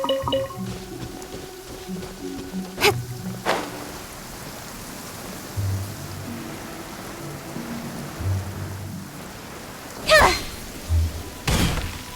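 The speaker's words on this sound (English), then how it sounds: "Quite a downpour. Nothing will get done until it clears." A steady rain downpour in the video game Genshin Impact, a constant hiss running the whole way beneath game music, with a few louder thuds breaking through.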